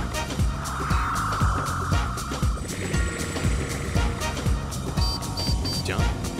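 An animated priority vehicle drives past with a rhythmic pulsing engine and a high siren-like tone, loud and close, layered with cartoon music and effects.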